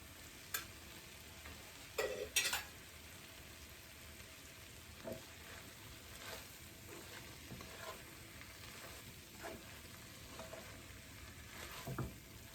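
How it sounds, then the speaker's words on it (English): Roasted chickpea flour being stirred into cooking tomatoes and vegetables in a pan, a faint steady sizzle with occasional scraping stirs and soft clinks of the spoon. "I'm going to add 2 tablespoons of roasted chickpea flour, which I have roasted here"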